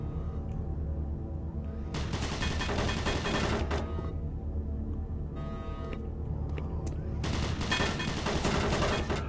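Automated turret guns in Doom 3 firing sustained loud bursts of rapid gunfire, two long volleys separated by a brief lull, with game ambience underneath.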